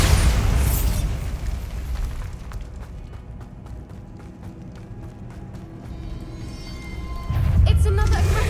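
Bombarda spell explosions in the video game Hogwarts Legacy, loud deep booms at the start and near the end with rumbling and rapid clicking impacts between, and voices talking over parts of it.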